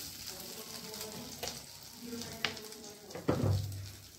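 Potatoes fry in oil in a wok for a prawn and potato curry, making a close, crackling sizzle with a few stirring scrapes and a louder burst near the end.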